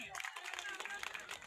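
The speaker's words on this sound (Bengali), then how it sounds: "আমরা ওদেরকে অভিনন্দন জানাই হাততালির মাধ্যমে" Children are applauded at a school picnic and sports contest after a biscuit race, with a crowd clapping in a dense, fairly faint patter under voices talking nearby.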